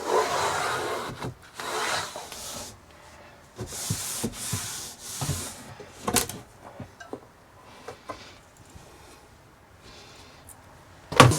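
A brush scrubs the hinges of a Hymer MLT-580 camper van during cleaning, giving repeated short rough scrubbing strokes in uneven bursts with brief pauses, close and moderately loud.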